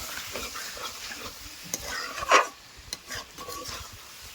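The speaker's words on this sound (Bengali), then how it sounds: "মাংসটা পনেরো থেকে কুড়ি মিনিট ধরে চাপা দিয়ে দিয়ে মাংসটা কষতে থাকবো" Meat being stirred and fried down in a pan for a light Sunday curry with potatoes, giving soft scraping stirs and a faint sizzle, with one louder stir scrape midway through a quiet stretch.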